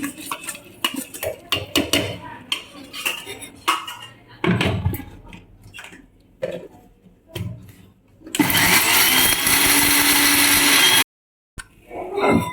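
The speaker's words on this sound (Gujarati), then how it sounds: "આ શેકેલો મસાલો છે એને આ બાઉલમાં નાખી અને મિક્સીમાં ક્રશ કરી લઈશું" A mixer grinder crushes roasted spice masala for spicy misal pav, roaring loud and steady for a few seconds before cutting off abruptly. Earlier clinks and knocks of a bowl and utensils come first.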